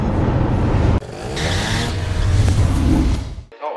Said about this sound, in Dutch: en we gaan Esta's scooter met een 80C op de testbank zetten